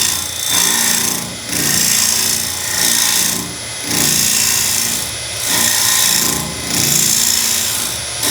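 A woodturning tool cuts wood on a lathe, steadied by a Robert Sorby Steady Pro roller support, giving a loud continuous rasping scrape that swells and dips in regular passes roughly every second or so, with no talking.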